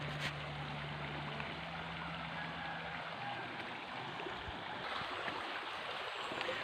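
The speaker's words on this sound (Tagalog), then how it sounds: "Mahaba tong sapa na to guys. Running water to siya." Mountain stream of running water, a faint, steady wash of flowing water heard outdoors at night, with a low hum briefly in the background.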